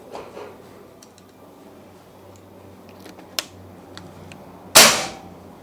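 A single sharp crack from a PCP Marauder OD38 air rifle during a chronograph FPS test rings out near the end after quiet room tone and a small click, with no talk.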